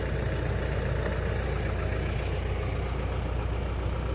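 A heavy diesel tractor engine runs steadily with a deep, continuous rumble, close by and unchanging throughout.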